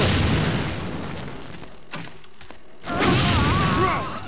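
An explosion in the stealth game Thief 2: The Metal Age lands as a loud boom with rumbling debris, fades into a quieter lull, then gives way to a burst of pitched, wavering sounds.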